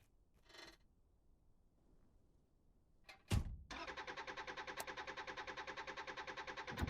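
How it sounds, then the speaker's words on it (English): A diesel car engine starting in the driving game Drive Beyond Horizons 2: a sharp crank burst after near silence, then a steady, loud, evenly pulsing idle that keeps running to the end. "Hopefully the car starts."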